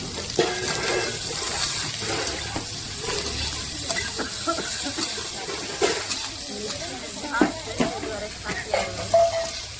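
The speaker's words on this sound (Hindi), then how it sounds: "जल्दी से आँच पर और अब हम प्याज डालेंगे" Onions frying in a pan over a flame make a steady sizzle with scraping stirs and occasional clinks, close and moderately loud, while a person's voice is heard nearby.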